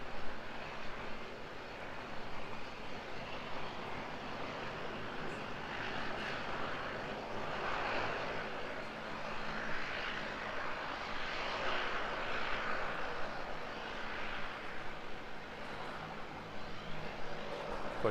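An RNZAF C-130 Hercules arrives at Auckland Airport, its steady, distant engine drone rumbling continuously at a fairly even level with no voices.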